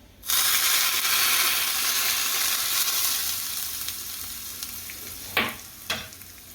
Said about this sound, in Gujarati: હવે એમાં વઘાર નાખી દઈશું